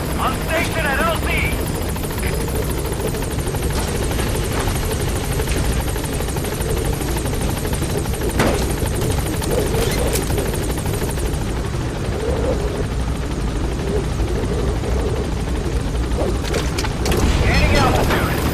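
Pequod helicopter arriving at a landing zone in Metal Gear Solid V, a loud continuous rotor thrum with a distant boom, a radio voice talking over it, and a swell of louder rotor noise near the end.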